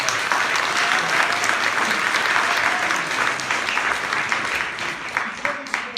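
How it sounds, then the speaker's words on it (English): An audience gives a round of applause at a drama adjudication, a loud, dense burst of clapping that carries on steadily and thins slightly toward the end. "Can we give Alison a round of applause?"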